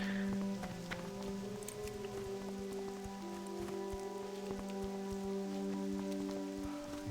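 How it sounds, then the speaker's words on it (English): Steady rain falls in a World of Warcraft Classic game world, a soft continuous patter with a few faint drips and tones, played alone at low volume. "It's raining."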